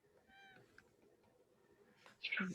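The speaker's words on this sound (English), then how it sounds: "It sounded like a cat." A cat meowing, a short faint mew early on and then a louder, nearer meow at the end over quiet room background.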